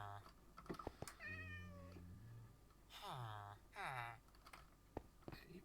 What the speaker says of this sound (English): A cat made its way into here as well.